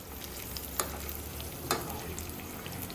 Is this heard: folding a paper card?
no